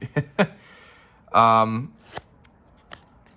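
A Memento Mori Genesis deck of playing cards is riffled and shuffled in quick, crisp bursts, close up, with a few soft taps and a brief cascade of cards.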